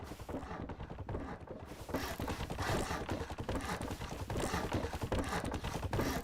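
Steady clip-clop of horse hooves at a trotting rhythm in the game Rust, fairly loud and continuous, mixed with a busy background of other game sounds.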